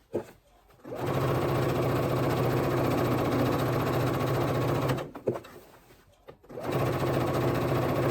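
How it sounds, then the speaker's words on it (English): Sewing machine stay stitching along a dress neckline: close, steady mechanical whirring run that stops briefly, restarts, pauses again and resumes, with no talk. "I'm just going to sew within the seam allowance, do that regular stitch"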